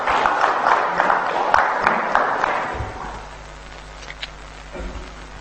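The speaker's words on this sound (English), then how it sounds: "Another applause, please, for Lillian." Applause from an audience at a national Youth Day address, a few seconds of steady clapping that fades out, leaving a quiet room with a low hum.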